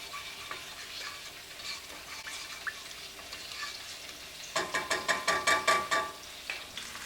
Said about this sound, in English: I'll stir the mixture into the soy sauce.